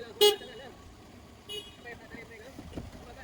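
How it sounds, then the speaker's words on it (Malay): A single short car horn toot sounds early during a driving-test circuit exercise, followed by quieter engine and background noise with faint talk. "Okay, horn sekali."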